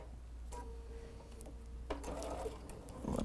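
A sewing machine runs a straight stitch through fabric, sewing a quarter-inch seam on a drying mat made with a Bosal sew-in form. The whir is faint, with light ticking.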